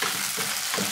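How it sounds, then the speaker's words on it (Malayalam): Cut okra frying in a pan for vendakka pulisseri, a steady close sizzle with soft hissing crackle throughout the brief moment and no voices. "ഇനി ഈ വെണ്ടക്കായ നമുക്കൊന്ന് വഴറ്റിയെടുക്കണം ഇതിലിട്ടിട്ട്"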